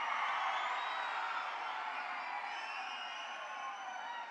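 A large crowd cheers and applauds continuously to welcome Deputy CM Bhatti Vikramarka at a public event in Telangana; the sound is a dense, steady roar that eases slightly toward the end.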